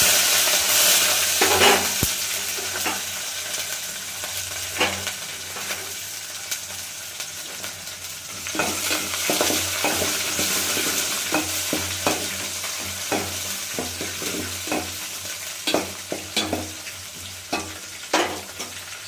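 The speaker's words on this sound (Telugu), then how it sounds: "బాగా ఏగనిస్తాం. తర్వాత కొంచెం బాగా ఏగితేనే పప్పు గమగమా అంటుంది." Garlic, curry leaves, onion and mustard seeds frying in oil for a spinach dal tempering, a steady close sizzle with repeated scraping and clinking as a spoon stirs the pan, no talk.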